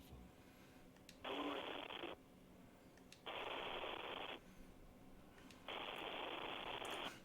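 A voice imitates a telephone ringing in the detective game Disco Elysium, making three evenly spaced, buzzy ring tones with short pauses between them, fairly quiet and alone.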